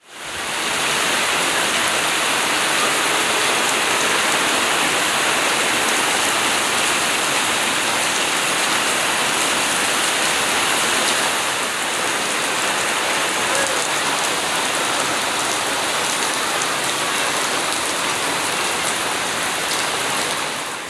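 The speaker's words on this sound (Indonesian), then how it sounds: "karena cuaca di luar juga lagi hujan deras-derasnya" Heavy rain pours steadily outside, a dense, loud, unbroken hiss of drops on surfaces that continues without letup.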